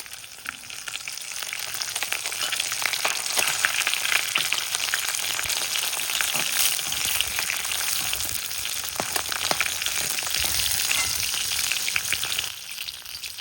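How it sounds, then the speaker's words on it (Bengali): Pieces of rui fish fry in oil in a pan with a loud, continuous close sizzle and crackle that holds steady for the whole stretch, with no talk. "মাছগুলো লাল লাল করে ভেজে নিয়েছি"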